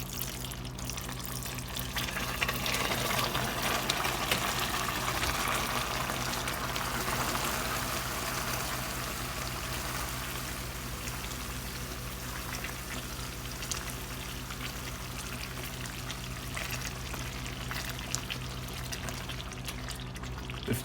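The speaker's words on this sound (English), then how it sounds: "now it's time to add the lime juice" Lime juice is poured into sugar syrup boiling at about 130 degrees Celsius for homemade candy. It makes a loud, bubbling hiss and sizzle that peaks early, then settles into a steady simmer over a low hum, with no talking.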